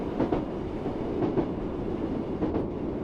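A Class 484 Viva Rail train in Train Sim World 6 rolls along steadily, its wheels clicking rhythmically over rail joints in regular pairs beneath a continuous low running rumble.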